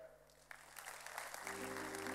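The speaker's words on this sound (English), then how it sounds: "please put your hand together for that" An audience at a venture-capital roast event in Hyderabad starts clapping. The applause begins faintly, then swells into steady, fairly distant clapping after about a second and a half.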